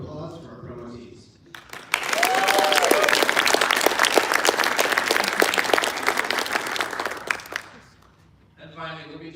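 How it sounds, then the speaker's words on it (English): An audience at a military promotion ceremony bursts into sustained applause lasting several seconds, dense and fairly close, with a speaker's voice before and after. "please give a round of applause for our promotees."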